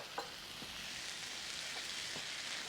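Soy-based sauce sizzling as it coats Quorn mince in a hot frying pan, a steady soft crackle with a few faint clicks and taps, no voices.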